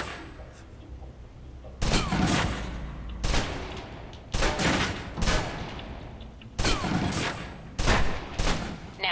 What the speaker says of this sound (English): Now let's empty the clip.